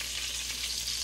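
Meatballs frying in a pan, a dense, steady hiss of sizzling fat that stays loud and unbroken from start to finish, with no voices.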